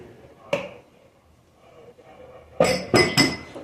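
A spoon strikes the side of a bowl while bread dough is stirred, with one sharp clink and then a quick cluster of three close, bright knocks.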